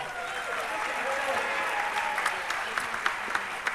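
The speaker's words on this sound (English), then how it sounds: "All right, how about a round of applause?" A crowd claps steadily at a local dancing-stars charity show, a full round of applause that begins to thin toward the end, leaving a few louder individual claps, with faint voices mixed in.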